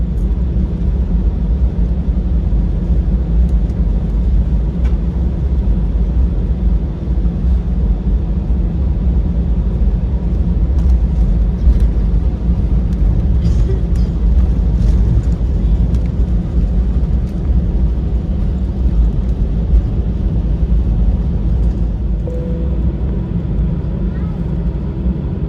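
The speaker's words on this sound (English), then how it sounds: "As we roll onto the runway" An Airbus A320 of Qatar Airways rolls onto the runway, heard from inside the cabin as a constant loud low rumble of engines and airframe with no distinct events.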